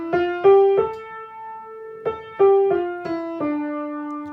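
Soft solo piano picking out a simple five-finger melody pattern beginning on D, single notes in an uneven rhythm with short pauses, ringing clearly with no talk.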